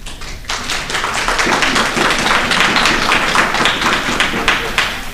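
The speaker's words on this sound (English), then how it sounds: "don't applaud" After a brief quiet moment, a debate audience breaks into thick, steady applause of many hands that keeps going at full strength.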